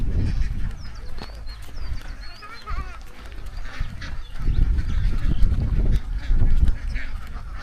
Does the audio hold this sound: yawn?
no